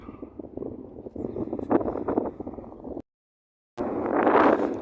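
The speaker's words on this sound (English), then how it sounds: "It's very windy today when you come up high anyway." Gusty wind buffets the microphone in a steady, rough roar, cutting out briefly to silence before rushing back even stronger.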